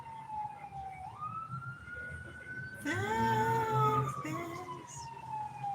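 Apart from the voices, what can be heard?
emergency vehicle siren passing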